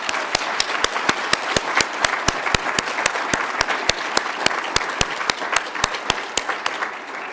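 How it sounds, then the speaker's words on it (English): Audience applause at a 2021 nursing pinning ceremony, a steady crowd of many hands clapping with sharp individual claps standing out on a continuous bed, loud and sustained without talk. "Round of applause, please."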